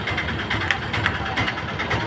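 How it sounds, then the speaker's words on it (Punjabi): Russian-built 1962 model 22 tractor with a petrol-start, diesel-running engine, idling steadily up close with a low, rough, throbbing chug and a continuous mechanical rumble, no voices over it. "ਇਹ ਟਰੈਕਟਰ ਚਾਲੂ ਹਾਲਤ ਦੇ ਵਿੱਚ ਹੈ"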